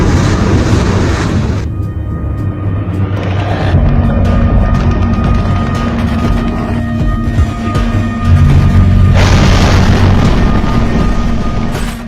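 Rockets and explosions at the start of a war, heard as heavy, continuous booming rumble with loud low thuds and harsh bursts that swell and recede over several seconds, with no voices.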